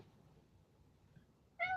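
A single short cat meow near the end, following a quiet, faint room background.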